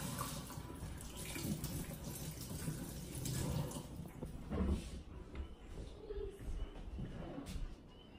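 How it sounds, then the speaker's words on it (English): Water runs steadily from a kitchen tap while tomatoes are washed for tacos, a continuous close hiss with faint splashes and handling noises, stopping just before the end. "Now you're gonna wash your tomatoes."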